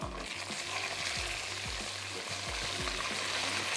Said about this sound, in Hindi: ऐड कर देती हूँ लहसुन और अदरक का पेस्ट, साथ ही इसमें शामिल कर देंगे चने